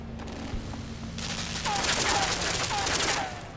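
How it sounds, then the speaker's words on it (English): Laser gun firing in the 2D puzzle-platformer Limbo: a run of four quick zapping shots, each a short falling whine over a steady roaring wash with a low hum underneath, fairly close and fairly loud. "Use the crate shield to protect me from the laser gun."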